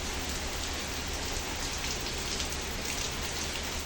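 Steady, dense rain shower pouring down in strong winds under dark clouds, a constant close hiss of drops hitting surfaces with no pauses or voices.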